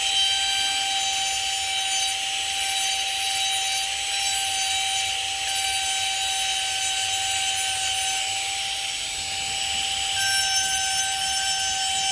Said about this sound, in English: And I start deburring all of the edges.